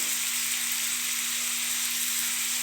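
Onion and tomato fry in a pan just before the spices go in, giving a steady, even sizzle throughout with a faint constant hum underneath.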